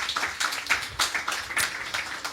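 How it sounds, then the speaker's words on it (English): Applause for the President breaks out at an APC youth leaders' gathering, a loud burst of clapping from a crowd that rises and falls over a couple of seconds. "And I think he deserves a resounding applause."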